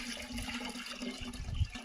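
Strained jamun juice pouring into a pot, a steady close trickle and gush of liquid with a low hum underneath and a brief louder splash near the end, no talking.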